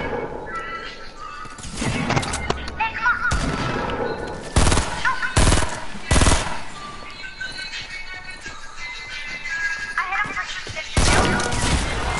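Video game gunfire comes in sharp, loud bursts and single cracks that are separated by short gaps. Music plays underneath, and a voice can be heard in the background.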